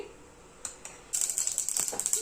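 Mustard seeds pop and sizzle in hot oil, starting with a few sparse crackles, then a rapid, steady spitting close by.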